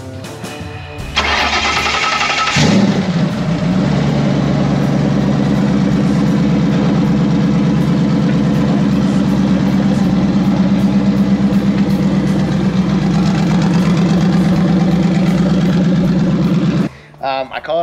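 A street race car with a twin-turbo Gen 2 Ford Coyote engine fed by two 6266 Precision turbos cranks, fires up loud and close, then settles into a rough, lopey idle that rumbles steadily before cutting off.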